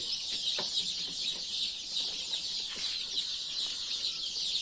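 Many young chicks chirp continuously in a dense, high-pitched chorus at a chick nursery, with a few louder cheeps standing out close by.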